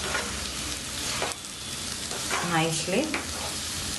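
Poha (flattened rice) with vegetables being stirred in a hot pan, steady sizzling and frying with scraping stir strokes, close and loud, with a voice briefly speaking over it.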